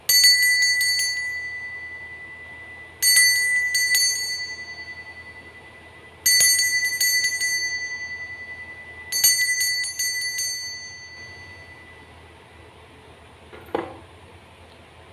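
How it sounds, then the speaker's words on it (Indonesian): A bright bell rings in four separate bursts a few seconds apart, each chime ringing out and fading, followed by a soft clunk near the end. "kita akan memulai dengan ditandai lonceng berbunyi"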